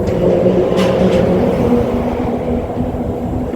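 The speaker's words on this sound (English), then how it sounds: "Cars make a strange sound when they go across here because it's all metal grating." A car rolling across a metal grating bridge at a historic park, giving a loud, continuous droning hum with a steady low rumble and faint higher whine, no talking.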